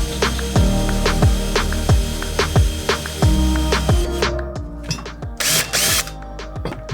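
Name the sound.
drill with cobalt bit drilling through steel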